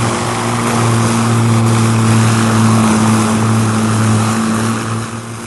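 Propeller airliner engines running with the port engines at full power, a loud, steady droning hum with strong sustained tones, unbroken and close for the whole stretch.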